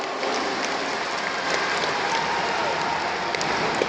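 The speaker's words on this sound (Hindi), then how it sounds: "इसके लिए जोरदार ताली आप लोग बजाइए।" Dense crowd applause at a political party convention in Jharkhand, a steady roar of clapping from a large audience that holds at an even level throughout, with no pauses.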